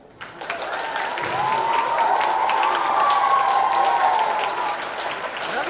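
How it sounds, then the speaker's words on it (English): Schoolgirls at a children's academy school event cheer and applaud as a crowd, a dense steady wash of clapping that swells after the first second and holds loud through the end. "All right, girls, it's time to cheer."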